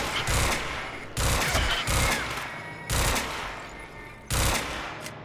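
Bursts of video-game gunfire from Quantum Break, four loud volleys of rapid shots spaced about a second apart, each fading into a short tail before the next.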